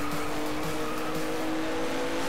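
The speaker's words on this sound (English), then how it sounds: "it has such a meaty exhaust note from that GT-R" Renault R.S. 01 race car with a GT-R engine in Driveclub, its deep meaty exhaust droning steadily and loud at close range, with a faint hint of tire squeal underneath.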